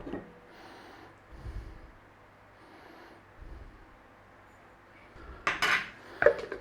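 Spatula scraping a mushroom and cream cheese pâté mixture out of a food processor bowl, with a few scrapes and clunks against plastic, quiet pauses between them, and louder knocks near the end.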